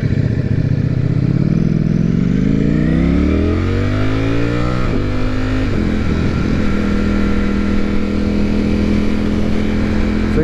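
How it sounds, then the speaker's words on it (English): A 2020 Ducati Streetfighter V4 S with its V4 engine runs close and loud, the revs sweeping upward before settling into a steady, loping throb. "This thing's got a great sound to it when it's at low idle."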